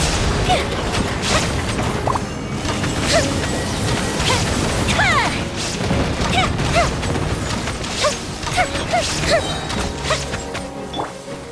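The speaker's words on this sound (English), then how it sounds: "Here come the fireworks! The fuse is lit!" Fireworks burst in Genshin Impact during an event battle: a dense stream of crashes, pops and whooshing bangs, loud and continuous, with bright crackling accents and game effects layered over it.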